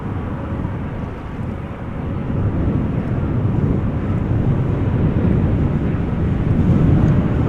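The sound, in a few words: Lufthansa airplane landing at Schiphol in storm crosswind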